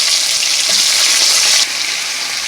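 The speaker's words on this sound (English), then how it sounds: "I add the chicken to the frying pot" Chicken frying in a pot of hot oil for a Jamaican curry chicken, a steady loud bright sizzle throughout that drops slightly in intensity partway through, with no talking.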